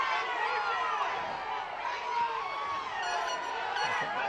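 A football crowd at a Charleston Battery versus Pittsburgh Riverhounds match reacts to a challenge with a broad, distant roar of voices that rises and falls steadily throughout.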